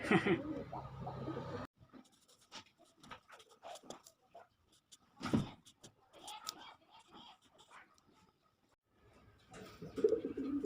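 Pigeons coo in low soft murmurs at close range, scattered between pauses and rustling, with people talking quietly at the start and end.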